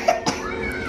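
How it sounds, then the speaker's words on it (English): A young girl coughs twice, brief and close, while she lies under a mermaid blanket watching a cartoon, and the show's soft sound continues underneath. "bit of a cough today, hey?"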